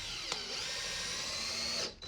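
A power driver spins a screw in with a steady high whine that holds for about two seconds, begins with a brief click and cuts off abruptly at the end.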